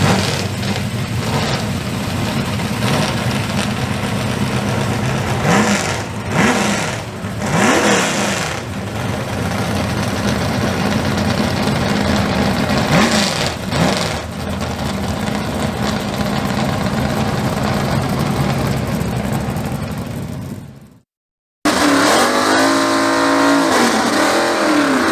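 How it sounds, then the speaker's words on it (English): Drag racing cars roar and rev at a no-prep airstrip drag race at Kooralbyn Aerodrome, a loud sustained engine drone with rising and falling revs, cut by a brief silence before another close, harsh burst of engine noise. "listen to those sounds here at Willowbank Raceway, the Nostalgia Drags"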